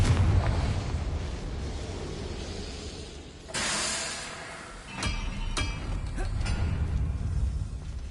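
A Confringo blasting spell from Hogwarts Legacy erupts with a loud whooshing burst, then a second fiery blast follows, over a rumbling, hissing background of magical combat.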